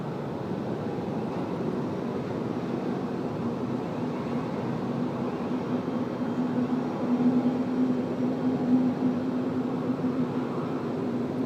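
A Malaysia Airlines airliner, flight 141, rolls in after landing on runway 34 left at Sydney Airport on a windy night. Its steady jet roar and low drone hold moderately loud and constant, swelling slightly toward the end, with no talk.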